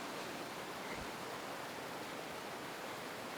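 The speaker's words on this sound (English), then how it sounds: "So let's go look at this waterfall." Brandywine Falls waterfall roaring as a constant, dense rush of falling water, steady and unbroken throughout, with no talk over it.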